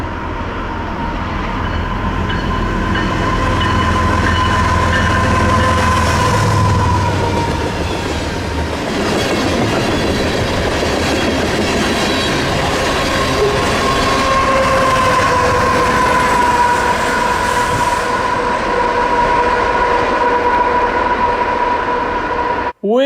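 A Norfolk Southern freight train led by a heritage unit rushes past at a grade crossing, a loud sustained roar of wheels and cars close by, with a horn-like tone and crossing bells ringing through it.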